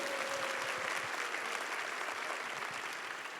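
A church gathering's audience gives steady, even applause of thanks for the Korean leaders, dense clapping throughout heard from a distance in a large hall.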